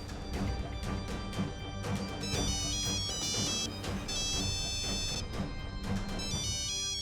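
A phone ringtone plays over dense background music, a bright repeating melodic tone sounding in bursts against a busy, steady mix.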